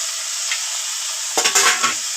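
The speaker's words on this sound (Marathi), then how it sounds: "आता शिमला मिरची टाकून घेऊया।" Capsicum tipped into a pan of fried onions: a steady high sizzle, then a burst of clattering stirring scrapes as the vegetables hit the hot oil.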